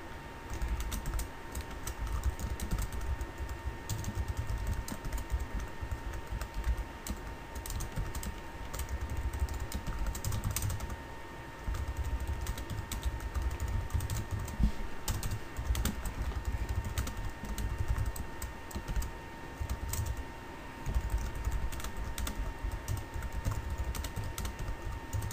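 Steady typing on a computer keyboard while entering code in Game Maker, a continuous close patter of key clicks running throughout with no talking.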